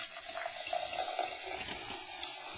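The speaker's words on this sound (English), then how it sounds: "Pour you a beer, Tracy." Liquid pours steadily into a glass as beer is served, a soft continuous trickling and splashing close by with no talking.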